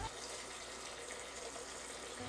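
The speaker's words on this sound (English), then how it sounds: "listen to the calming stream of water peeing into my oatmeal bowl" A steady stream of water pours into an oatmeal bowl in a kitchen, giving a constant close splashing rush with no talking, unbroken for the whole short stretch.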